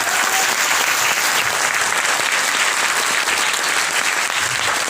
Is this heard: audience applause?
yes